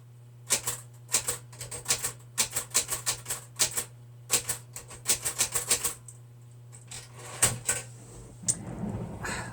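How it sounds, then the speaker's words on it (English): Crisp typewriter keys clack in quick bursts and pauses, close and loud, ending with a brief scraping shuffle. "I love the typewriter"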